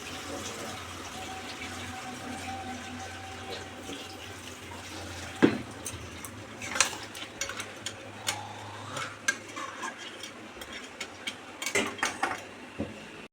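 Spoon stirring crab curry in a pan, giving intermittent scraping clinks and knocks against the metal that grow busier toward the end, heard close against a soft steady background hiss with no voices.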